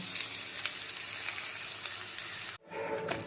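Garlic, dried red chilli and black cumin fry lightly in mustard oil, a steady bright sizzle and crackle with small pops, close and continuous, cutting out briefly near the end.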